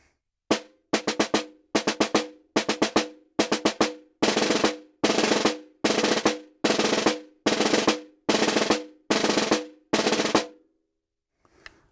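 Snare drum multiple-bounce rolls played as a practice exercise, a series of short buzzing strokes and sustained buzz rolls in steady rhythm, loud and close with no talking, ending in a brief silence with one soft tap.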